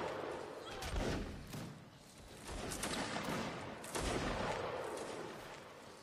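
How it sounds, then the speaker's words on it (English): Musket volleys crack out in a Mount & Blade: Napoleonic Wars line battle, with repeated overlapping shots and thuds from several directions, loud bursts near 1 and 4 seconds over a constant battlefield din. "And the firing continues with Munge."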